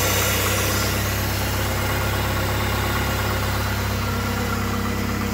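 A 2002 GMC Sonoma pickup's 2.2L four-cylinder idles steadily with fresh spark plugs and wires, a loud, close, even rumble with a slight rattling vibration and no voices.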